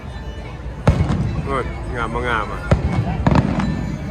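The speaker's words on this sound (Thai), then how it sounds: "นี่แหละไฟเวิร์กจุดพลุ" Fireworks bursting at Downtown Disney, a few sharp bangs and crackles scattered over a steady crowd murmur outdoors, with people talking and exclaiming nearby.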